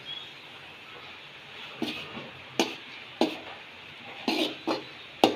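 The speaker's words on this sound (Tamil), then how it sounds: "அரைச்சி வச்சுருக்கிற கடலைப்பருப்பு மாவை சேர்த்து இப்போ வதக்கி எடுத்துக்கலாம்" Ground chana dal flour is dry roasted in a pan without oil, with a faint background hiss and a series of distinct scraping stir strokes and spoon knocks at irregular intervals.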